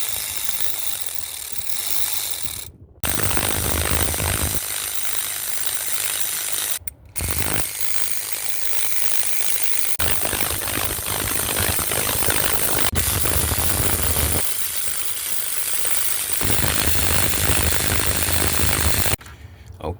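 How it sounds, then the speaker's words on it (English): A ratchet or power tool runs loud and steady, cutting off briefly several times, while six bolts are removed from the water pump of a 2012 Cadillac CTS4 3.0L. "So let's go ahead and get these 6 bolts out."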